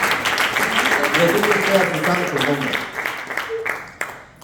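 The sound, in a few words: congregation clapping hands in church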